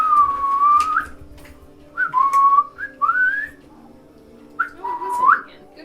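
A shrill rising and falling whistle, the death whistle in a tabletop session, sounds in four separate bursts, fairly loud and close, with no talk over it.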